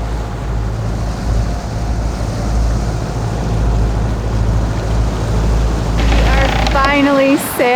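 Ocean water rushes steadily past the hull of a sailboat under sail with no engine running, a broad wash mixed with wind noise on the microphone, and a voice speaks briefly near the end.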